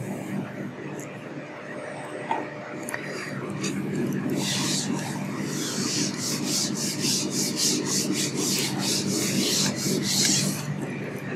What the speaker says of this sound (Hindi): ये ग्रीन बोर्ड में चॉक को रब करने में कुछ दिक्कत होती है